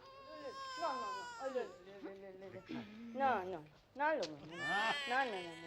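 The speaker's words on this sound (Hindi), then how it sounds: "अरे बच्चा रो रहा है, बच्चे को निप्पल क्यों नहीं देते?" An infant cries in wailing, rising and falling bursts with short pauses, fairly close and loud in a passport office, while adults talk nearby.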